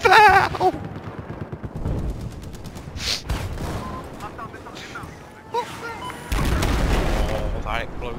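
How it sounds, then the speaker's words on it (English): Booming explosions and gunfire in a video game, with a heavy blast at the start and another rumbling burst near the end, amid continuous battle noise while people talk over it. "Oh, that explosion."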